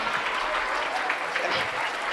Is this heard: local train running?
no